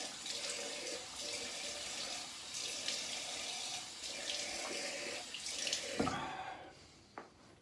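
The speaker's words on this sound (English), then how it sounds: "I'll rinse the alum just a sec." An alum block is rinsed under a running kitchen tap: a steady close splash of water flows for several seconds, then is turned off, leaving a quiet drip and a faint clunk.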